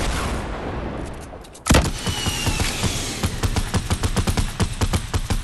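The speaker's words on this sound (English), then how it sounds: "I'm gonna throw a rocket launcher." A rocket launcher fires in a Fortnite-style shooter with one sudden loud blast, followed by a rapid, steady stream of close, crackling bursts that carry on to the end.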